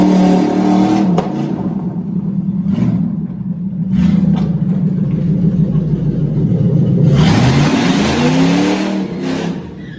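A budget rat rod car with its body cut off roars and revs up and down nearby, loud rumbling acceleration with gear changes, no talking.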